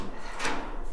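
A hot rod car door latch is being worked, giving a brief, close metallic-wooden click and rub in the middle of a continuous low rumble. No one speaks.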